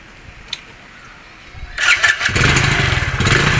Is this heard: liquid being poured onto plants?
no